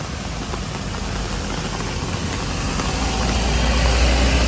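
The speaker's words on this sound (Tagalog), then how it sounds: "ang lakas ng ulan" Steady, dense heavy rain hiss fills the scene near a bridge with a low rumble underneath, growing slightly louder toward the end; no voices.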